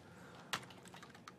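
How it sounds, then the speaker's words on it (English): Typing a URL into a browser on a computer keyboard, a quiet run of about half a dozen irregular key taps led by one sharper strike, faint and close, with no speech. "by typing it into the browser here"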